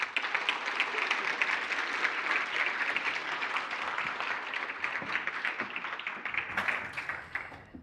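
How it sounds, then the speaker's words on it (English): An audience at a panel discussion on accountability and justice applauds steadily for several seconds, a dense, even wash of clapping that thins out toward the end. "So, give a round of applause"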